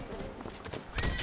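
A summoned horse in a fantasy video game: a few quick hoofbeats followed by a loud, close whinny near the end, short and faint overall.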